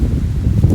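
Wind blows outdoors at the old Great Central Railway site at Charwelton, a brief, loud, low buffeting rumble against the microphone with no voices.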